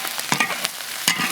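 Pickled mustard greens and shredded pork stir-fried in a wok, with loud close sizzling broken by quick scraping and tossing strokes from a spatula, and no voices.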